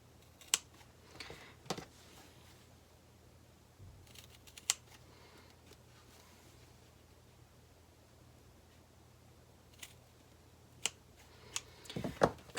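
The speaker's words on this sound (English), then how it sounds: "Make sure you use a really sharp pair of scissors when you're doing the diagonal lines" Sharp scissors cut diagonal lines into fabric near a stitched corner of a sewn bag gusset, producing sparse, quiet, crisp snips spread over a faint background hiss.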